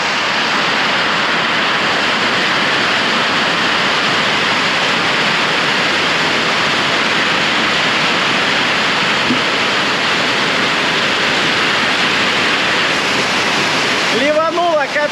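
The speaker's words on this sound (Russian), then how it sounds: "Ливануло капец какой." Heavy Florida rain pouring down in a steady, dense roar that fills the whole stretch, loud and constant, with a brief tonal whine near the end.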